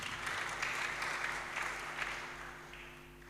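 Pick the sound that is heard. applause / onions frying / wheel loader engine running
applause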